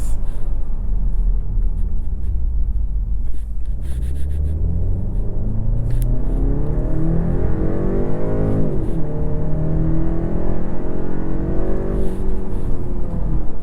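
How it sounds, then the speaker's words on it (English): A 2024 BMW 530i xDrive sedan accelerates hard from the cabin, its engine droning loudly as the pitch climbs steadily, dips briefly around a shift, then rises again over constant road rumble. "let me try a quick acceleration"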